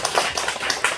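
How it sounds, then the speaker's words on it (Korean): A congregation claps during a church service, a dense, steady patter of many hands filling the short stretch with no voices over it. "박수 한번 쳐야지"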